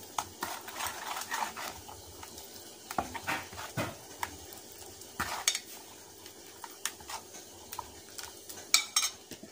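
A spoon stirs flour and salt together for Malabar ottada, giving soft, quiet scraping and occasional light clinks against the bowl in an irregular rhythm, with no talking.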